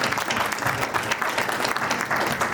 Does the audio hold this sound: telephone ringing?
no